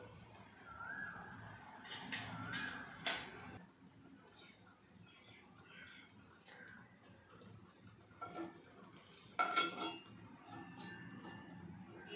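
Potato and carrot patties are lifted onto a serving plate, with quiet, scattered clinks and scrapes of utensils against dishes in short bursts separated by near-silence. No one speaks.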